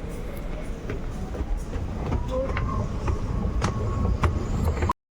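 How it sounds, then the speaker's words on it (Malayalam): A Dubai Metro train arrives and rumbles steadily nearby with rhythmic clicks and rattles, a low continuous roar running for several seconds before cutting off. "നമുക്കുള്ള മെട്രോ വന്നിട്ടുണ്ട്."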